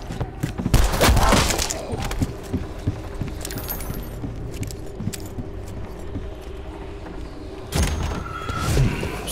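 Gunfire in Call of Duty Black Ops 4 Zombies, set aboard the Titanic, loud bursts and rapid shots early and late with clattering impacts and quieter rattling between, no voices.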